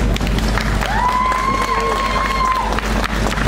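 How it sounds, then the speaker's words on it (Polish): A concert crowd applauds and cheers for a rapper at a Lublin event; steady clapping and crowd noise, with a short whistle-like tone partway through. "Jeszcze raz wielkie brawa."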